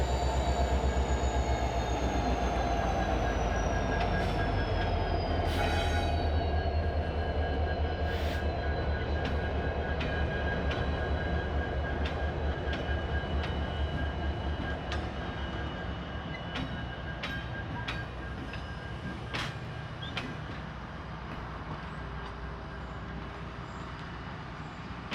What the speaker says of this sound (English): This is the R.J. Corman Derby train, just after departing the RJC yard on its way to Louisville.